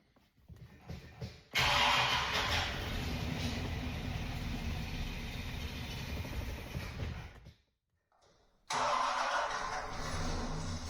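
An older carbureted car engine starts after a brief crank and runs in a loud, rough steady roar, cuts out into near silence for a moment, then catches and runs again close by.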